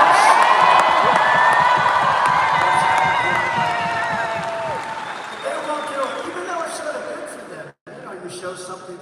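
A large crowd at an outdoor presidential rally in Rapid City, South Dakota roars with sustained cheering, whoops and applause, loud and continuous, gradually thinning toward the end with a brief dropout near the close.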